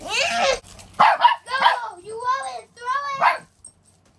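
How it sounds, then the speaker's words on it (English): Dog yipping and barking in short bursts while playing, fairly close and loud, with a whiny, vocal quality across several rapid calls. "I'm dog sitting, and Nala's having a good time."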